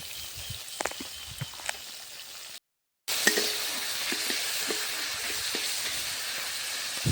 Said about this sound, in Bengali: মশলাটা এবার আমি ভালোভাবে কষিয়ে নেব